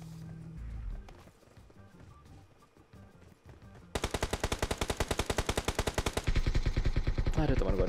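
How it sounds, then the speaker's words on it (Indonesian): Gunfire in a PUBG game, with rapid bursts of automatic shots rattling loudly over game ambience in the second half after quieter background sounds. "Ada teman gue nembak."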